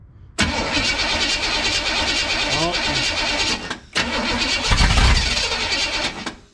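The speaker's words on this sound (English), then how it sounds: "Let's try giving her a little rev, see what she does." A 1962 Chevrolet Impala V8 with badly retarded timing is started and revved, running loud and rough close by, cutting out briefly near the middle and then picking up again with a deeper surge.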